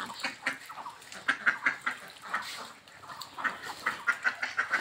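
Farm ducks and ducklings bathing in water quack repeatedly in bursts of short, nasal calls, rising and falling in a lively, irregular rhythm at moderate distance.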